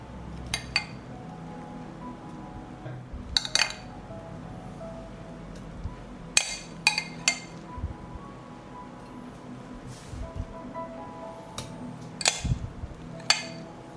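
Glass jars clink and knock as tomatoes and minced vegetables are placed into them, scattered sharp chinks at irregular intervals over a quiet kitchen background.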